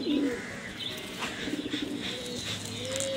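Giribaj pigeons, a standing pair of male and female, give soft low repeated coos at close range, with a few faint chirps and light rustling in the background.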